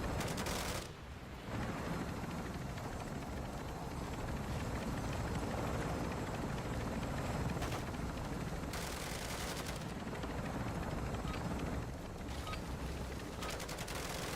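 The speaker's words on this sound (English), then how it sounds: "Extract helos departing LZ." Extraction helicopters in Modern Warfare Zombies roar steadily with dense rotor noise and bursts of gunfire, loud and continuous, with brief dips in intensity.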